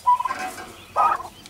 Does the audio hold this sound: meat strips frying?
no